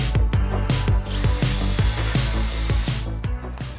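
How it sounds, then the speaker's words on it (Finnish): Loud, close impact driver ratcheting in rapid repeated clacks as it drives screws through a wood block into a concrete wall, with a steady whine of the motor behind the hammering pulses. "mä laitan ne ruuvit tohon betoniseinään, siihen jonkun puupalikan"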